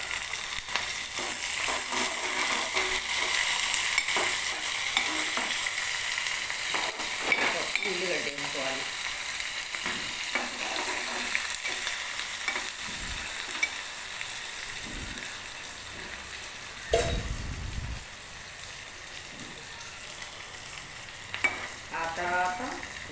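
Onions frying with ponnaganti greens in a pan, a steady broadband sizzle running throughout with occasional stirring clatters and scrapes, some brief louder knocks, under faint background voices.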